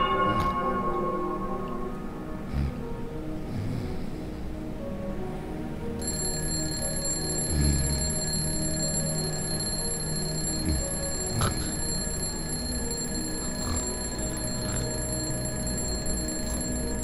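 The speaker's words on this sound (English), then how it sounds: "I wouldn't like that alarm." An alarm clock rings in Skyward Dream, a layered bright electronic tone that carries steadily throughout and grows fuller and higher partway through, over a low ambient background.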